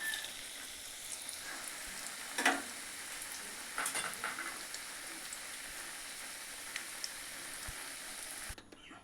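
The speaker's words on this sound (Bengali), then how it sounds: "এই দেখো এগুলো আমি এখন তেলের মধ্যে ভেজে নেব।" Dhoka, Bengali lentil cakes, frying in oil in a pan, a faint steady sizzle with a few brief louder crackles and utensil touches, otherwise quiet.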